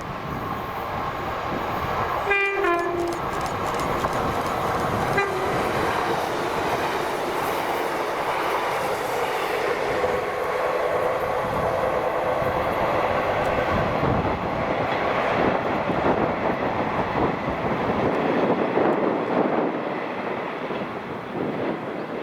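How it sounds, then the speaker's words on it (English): ScotRail Class 156 diesel units 156453 and 156478 on a Glasgow Queen Street to Oban service passing at Bowling, with a short horn blast near the start, then a sustained loud rumble of engines and wheels fading toward the end. "this is 1Y27, the 1846 ScotRail service to Oban from Glasgow Queen Street with 156453 and 156478."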